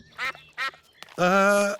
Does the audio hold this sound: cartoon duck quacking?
yes